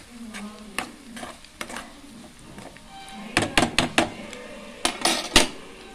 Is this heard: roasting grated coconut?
yes